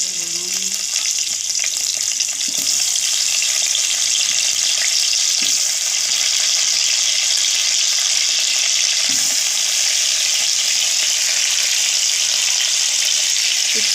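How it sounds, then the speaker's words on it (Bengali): Potatoes fry steadily in refined oil in a wok, giving a loud, continuous sizzle with soft stirring and a few clinks throughout, and no voices. "কড়াইতে রিফাইন অয়েল দিয়ে দিয়েছি, এরপর আলুগুলো দিয়ে দেবো"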